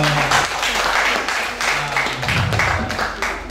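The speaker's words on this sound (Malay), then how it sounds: "Tepuk tangan dia kita semua." An audience at an MoU signing ceremony between IAITF Dumai and UiTM Malaysia breaks into applause, a dense, steady clatter of many hands sustained throughout, with a brief lull near the end.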